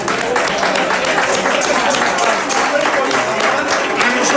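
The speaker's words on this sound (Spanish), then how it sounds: "un fuerte aplauso para Julio" Loud, close audience applause at a Day of Asturias celebration concert, dense rapid clapping that stays steady throughout.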